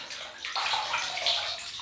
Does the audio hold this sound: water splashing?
yes